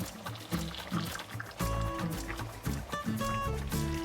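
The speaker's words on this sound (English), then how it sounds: "So now at this point, I'm going to add in my lentils." Soaked lentils tipped into a pot of simmering potatoes for an Indian lentil curry, wet splashing and sloshing with soft knocks, close up, plus faint background sounds.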